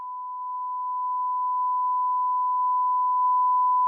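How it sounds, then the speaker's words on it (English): A pure sine-wave test tone boosted 18 dB over full scale holds one steady pitch for about four seconds, alone and unbroken, with no audible change in character and its level creeping up slightly. "Kind of hard to tell on the sine wave, but it's definitely over."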